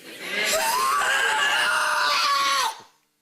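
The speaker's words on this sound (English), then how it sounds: "You don't have to scream. I can hear you." A person screams loudly and continuously for over two seconds during a deliverance prayer session, a strained, wavering shriek that cuts off abruptly, with no other voices.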